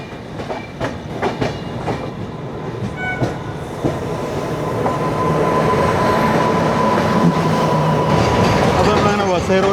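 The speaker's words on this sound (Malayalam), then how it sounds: "വസൈ റോഡ് സ്റ്റേഷനിലേക്ക് കയറുകയാണ്." Rajdhani Express train number 12431 on the Western Railway, pulling into Vasai Road station, with a steady rumble and clickety-clack that builds in loudness, followed by squealing wheels near the end. A few voices talk under it.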